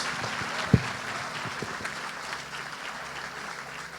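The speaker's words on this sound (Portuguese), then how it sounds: "Vamos aplaudir essas pessoas." A church congregation applauds visitors with steady, moderately loud clapping throughout, a sharp knock near the start standing out above the even wash of hands.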